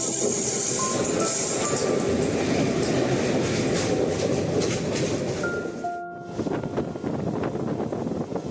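A sleeper train runs through tea gardens near Jalpaiguri Road, its steady loud rumble and clatter of wheels filling the clip, with a brief dip and a few faint tonal squeals near the end.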